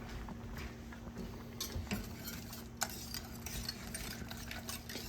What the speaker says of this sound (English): Now we're going to add our cheese. And we're going to give it a good stir.